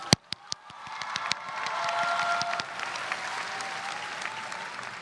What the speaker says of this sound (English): can we give ourselves another round of applause?